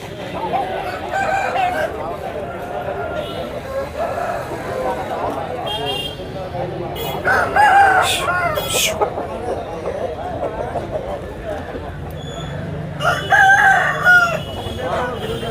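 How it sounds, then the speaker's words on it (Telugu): Native country roosters crow several times at a busy Sunday village poultry market in Vizianagaram district, with hens clucking and a crowd chattering around, while someone talks close by over the birds. "పుంజులు అయితే బాగానే వచ్చాయి పెట్టలు కూడా మంచి వచ్చాయండి"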